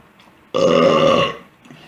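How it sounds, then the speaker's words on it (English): A single loud, drawn-out burp from a man, rising abruptly out of near silence, holding for under a second, then fading away. "You can't have a drunk koala video without burping with drunk koala"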